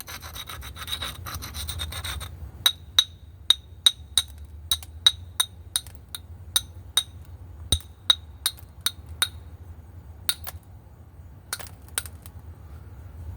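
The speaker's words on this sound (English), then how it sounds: "I'll do a little sand down on it." Knapping a glass bottle bottom into a heart shape, with a string of sharp, evenly spaced clinks and scrapes as the chipped edge is sanded down, close and distinct over a quiet background.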